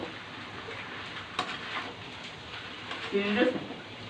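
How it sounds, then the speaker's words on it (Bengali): Chopped liver frying in a pan and being stirred into a samosa filling: a soft, steady sizzle with faint scraping stir strokes, a few louder clinks near the end. "কলিজাটা আমি অ্যাড করে দিলাম এখন ভালো করে নেড়ে এটাকে মিশিয়ে দিব"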